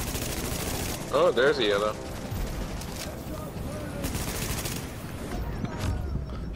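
Heavy, sustained gunfire in Tom Clancy's The Division during a boss fight, dense overlapping bursts pouring in continuously, with a player speaking briefly over it.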